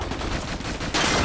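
Gunfire from the stealth shooter Splinter Cell: Conviction during co-op play: a short burst of dense, close shots, with a sharp louder blast near the end.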